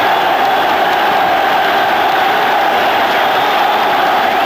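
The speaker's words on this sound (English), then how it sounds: "And applause from the United players for their own" Steady roar of a stadium crowd at the 1981 Scottish Cup Final between Rangers and Dundee United, loud and continuous throughout, with applause and cheering blended into a dense wash of noise and no clear single voices.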